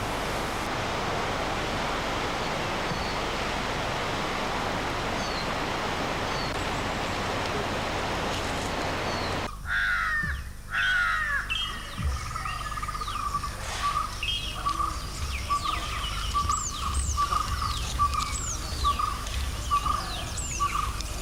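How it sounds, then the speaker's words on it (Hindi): Forest birds calling beside the Periyar river, first masked by a broad rushing wash of water, then after a sharp cut several clear chirps and tweets ring out repeatedly over quieter flowing water. "चुपचाप सुनता है जंगल के पक्षियों का कलरव।"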